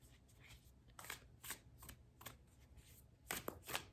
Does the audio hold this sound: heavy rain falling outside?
no